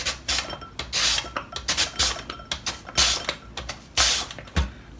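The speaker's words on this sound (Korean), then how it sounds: "그래서 제가 칼로 안 썰고 요거 채칼로 한번 썰어 보겠습니다" A raw potato is pushed over a julienne slicer in quick, repeated rasping strokes, each scrape close and loud with short pauses between, and no talking.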